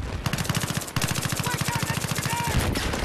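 Rapid automatic gunfire from the video game Battlefield 3 on Kharg Island, a steady rattling stream of shots with a brief pause near the first second, loud and continuous, with game noise and a faint voice underneath.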